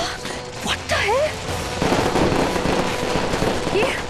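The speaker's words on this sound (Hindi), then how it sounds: "तुम्हारा सब पटाखा तो नीचे गिर रहा है।" Firecrackers burst in a crackling flurry, then fizz and pop, with whistling streaks and scattered bangs, loud and close, while voices cry out.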